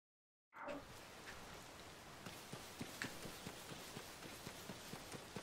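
Steady rain falls in Zelda: Tears of the Kingdom, a dense continuous patter with soft footstep-like taps running through it, heard alone with no talking.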